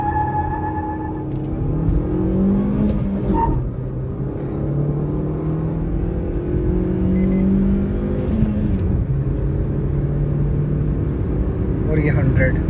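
A 2023 Suzuki Swift petrol car accelerates hard from standstill toward 100 km/h, starting in first gear with the AC off; a loud, close engine drone climbs in pitch and drops at gear changes, continuous throughout.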